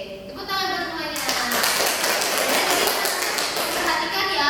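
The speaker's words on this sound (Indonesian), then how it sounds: "Oke, tepuk tangan buat semuanya." A classroom of children clapping together after a lesson, dense rapid hand claps swelling quickly after a teacher's voice and holding steady, close and loud.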